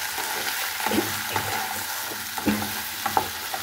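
Onion and a green chilli frying in a pan for a kochur loti dish: a steady close sizzle broken by soft stirring scrapes, no voices.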